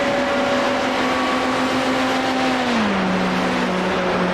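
Formula 3 race cars scream past in close battle, a steady high engine whine that drops in pitch as they pass, loud and continuous with no talk.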